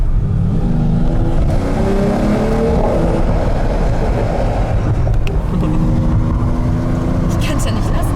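A Mercedes-AMG GT63S engine accelerates while driving, a loud, continuous rumbling drone with rising and falling revs close by, with people talking over it.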